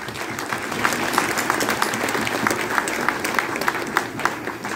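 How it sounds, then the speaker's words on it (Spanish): Warm applause from a crowd at the 90th anniversary celebration of a Jewish community center, a dense continuous patter of many hands at moderate distance, steady throughout. "Un fuerte aplauso para todos ustedes."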